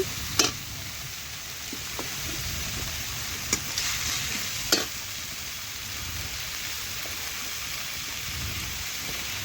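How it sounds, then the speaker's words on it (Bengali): A spice paste of ground pepper and ginger is stir-fried for a lightly spiced chicken dish, a steady close hiss of frying with a few sharp scraping clinks from the stirring spoon. "মশলা একটু কষে নিচ্ছি"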